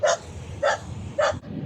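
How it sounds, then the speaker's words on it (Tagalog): A dog barks three times from a house being visited, the sharp, evenly spaced barks standing out clearly against a quiet outdoor background. "parang may aso na nakatira doon ah"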